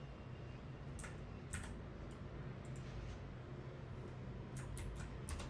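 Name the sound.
typing on a computer keyboard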